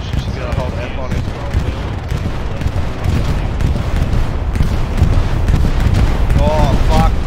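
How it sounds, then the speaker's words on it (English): A bombing run in a WW2 video game brings a loud, continuous roar of explosions and gunfire rumbling close by, while people talk over the din. "Bombing run."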